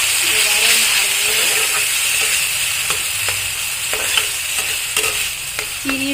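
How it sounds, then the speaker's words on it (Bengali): Meat polao is stirred in a frying pot, making a loud, constant hissing sizzle with steam and occasional scraping strokes close by. "এবারে নাড়বো"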